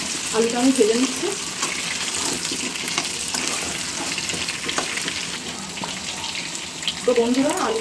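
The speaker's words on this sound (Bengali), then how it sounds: "আলুটা আগে ভেজে নেব।" Potatoes sizzling in hot mustard oil in a kadai make a continuous crackling hiss with faint stirring scrapes, and brief stretches of someone talking at the start and end.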